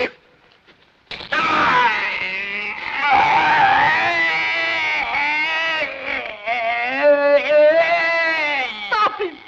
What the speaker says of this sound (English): Scream, do you understand? Scream. Scream!